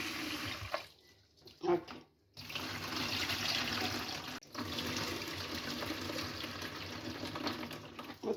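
Running water at a sink washing ingredients for suruttu appam, a steady splashing stream broken by brief pauses, with a short spoken word partway through.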